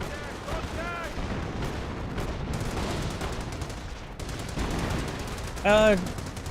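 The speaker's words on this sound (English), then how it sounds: "Rifle Grenadiers firing away." Rifle grenadiers firing in a Company of Heroes 1 battle, rapid gunfire crackling in bursts amid distant explosions, with a harsh shout-like burst near the end and speech-like sounds mixed into the fighting.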